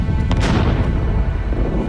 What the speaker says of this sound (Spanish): Explosiones masivas crean la primera brecha en las murallas